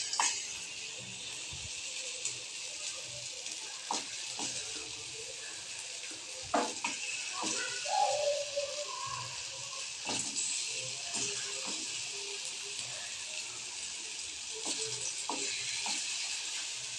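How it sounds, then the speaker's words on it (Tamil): Potato chips sizzle in hot oil with a steady bright hiss and occasional pops and scrapes of a utensil, fairly quiet, with no voices. "எண்ணெய் சூடானதும் நம்ம ரெடி பண்ணி வச்சுருக்க சிப்ஸை ஒவ்வொன்றா எடுத்து எண்ணெயில் போடணும்"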